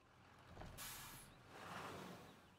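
A bus in the Echo Generation video game gives a loud burst of air-brake hiss that swells and fades, then a second softer rush of air, with engine rumble underneath and no speech.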